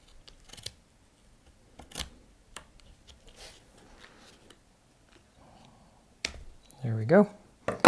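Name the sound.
scissors cutting extra canvas material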